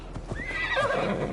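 In the video game Assassin's Creed Valhalla, a horse gives a rising whinny over a few quick hoof clops, close and clear with no talking.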